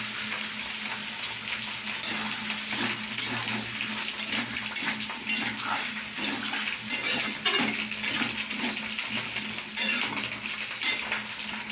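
Potatoes tipped into a frying pan with soybean chunks set up a steady sizzle, with scraping stirs and light utensil clinks against the pan running throughout, close and without talk.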